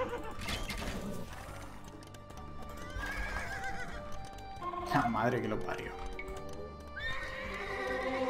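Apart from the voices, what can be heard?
horses in the video game Age of Empires II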